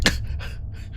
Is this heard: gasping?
yes